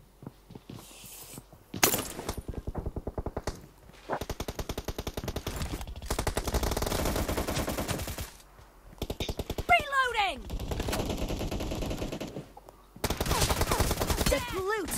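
Rapid automatic gunfire from PUBG Mobile gameplay, long bursts of sustained shots broken by short pauses, loud and close, with a brief sweeping effect midway.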